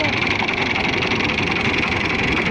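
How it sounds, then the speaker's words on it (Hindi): A steady engine of a 2000 Fiat 480 tractor idling close by, a continuous low rumble with a constant drone and no change in pace. "ट्रैक्टर की आवाज चेक करो"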